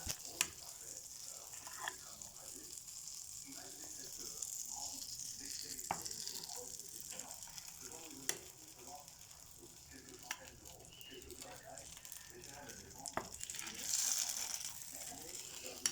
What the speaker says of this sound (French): je vais mettre le pain dans la poêle